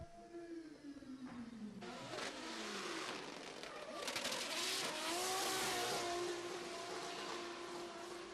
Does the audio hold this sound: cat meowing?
no